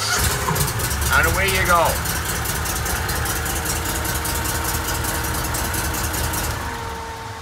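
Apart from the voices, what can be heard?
Argo Conquest Pro 950 XT 8x8 engine starting and idling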